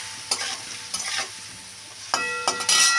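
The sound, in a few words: stirring vegetables with spices and a little water in a pan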